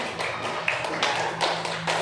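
A classroom group claps for a presenting student team, a short burst of rhythmic, moderately close hand claps with a low hum beneath.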